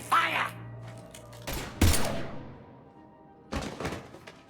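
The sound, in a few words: gunfire in video game Mass Effect 3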